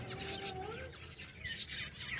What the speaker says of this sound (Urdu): ہمارے کبوتر راجا اور رانی بڑے سکون سے اپنے کیج میں ہیں